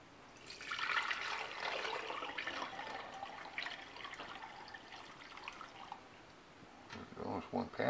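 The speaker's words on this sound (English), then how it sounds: "I'm going to pour the stock into some little containers here." Turkey stock is poured through a mesh strainer into a fat separator in a home kitchen, a soft, uneven liquid splashing and trickling that rises and falls, with a voice speaking over it.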